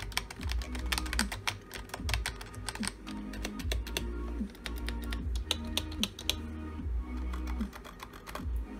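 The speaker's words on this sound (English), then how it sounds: "And sound of this keyboard." Keys on a Scorpion computer keyboard are typed quickly and continuously, giving close, crisp clicks and occasional louder thocks in an uneven rhythm, alone with no voices.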